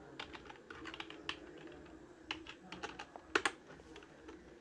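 Code being typed on a computer keyboard while building a Pygame space shooter game: a quick, irregular run of crisp key clicks with a few louder, sharper strikes near the end and no voices.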